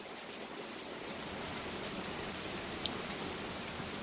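Steady rain falling outdoors on a mild, spring-like day, a dense even hiss throughout with one brief faint click, no voices.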